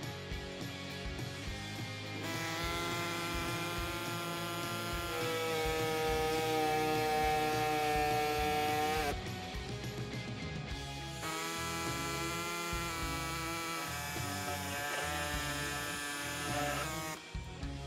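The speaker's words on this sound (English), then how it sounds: "using a body saw, we're just gonna cut along the lines that we made so that it can clear our taillight" Electric reciprocating body saw cuts through the rear body panel of a Jeep Wrangler TJ, a loud sustained buzzing whine in two long passes separated by a brief stop.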